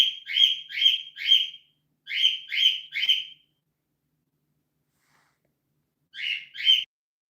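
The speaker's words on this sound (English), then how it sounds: "That's my bird. Please ignore them." A pet bird chirps indoors in quick bright triplets, two bursts of three calls, a pause, then a final pair, loud and close with silence between.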